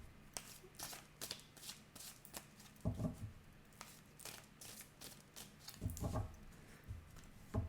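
A deck of oracle cards is shuffled and cut close up, quiet riffling flutters and soft papery slaps repeating in bursts, a few louder taps among them.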